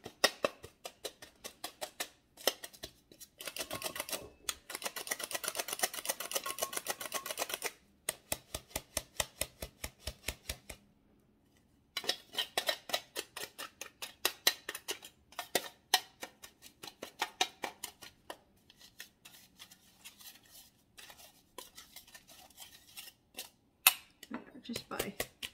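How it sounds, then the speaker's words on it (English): The back of a spoon pressing lumpy icing sugar against the sides of a metal sifter, producing fast rattling, scraping ticks in repeated bursts with brief pauses, close and moderately loud. "Just by taking the back of a spoon and just pressing it against the sides of the sifter"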